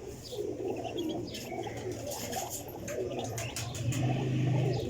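Pigeons coo softly in a loft, a low repeated burbling with faint chirps, wing shuffles and a louder coo building near the end, with no talking.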